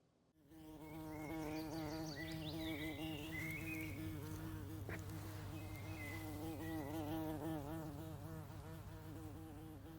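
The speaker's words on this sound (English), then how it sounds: "How fast do you think these honeybees are flying?" Honeybees buzz steadily in flight, a loud, continuous drone with wavering pitch from several insects close by, holding from start to finish with no talk.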